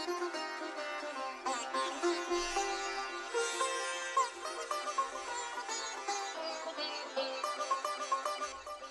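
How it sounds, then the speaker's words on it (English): A looped sitar sample plays as a steady stream of bright, twangy plucked strings with ringing overtones, repeating the same phrase continuously with no bass underneath. "So just a loop with the sitar sounds like this."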